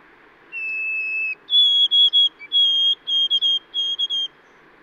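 A Newfoundland white-throated sparrow whistles its song: a long, clear, pure note, then a higher series of short, evenly spaced three-part phrases, crisp and close over a faint background hiss.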